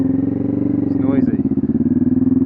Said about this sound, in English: Very little restriction on this exhaust.